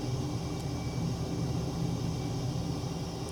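F-18 jet engine running at full military power in Flight Simulator 2020, a steady, dense roar with deep rumble that holds constant and loud throughout, with no other sounds.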